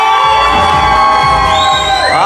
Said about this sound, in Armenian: Հիմա լսում եք Փեսայի կողմից ծափերը։